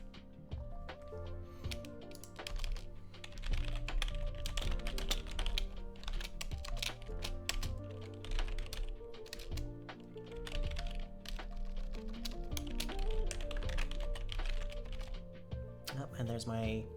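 Fast, continuous clicking of computer keys goes on for the whole stretch, close and fairly quiet, under someone talking.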